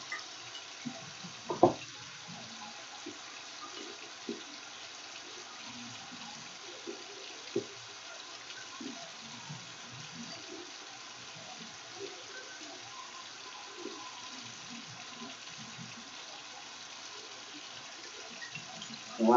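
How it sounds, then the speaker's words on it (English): Tap water runs steadily into a sink while hands are washed, a long soft continuous hiss with occasional small splashes and knocks, fairly quiet and close. "I will wash my hands again for 30 seconds."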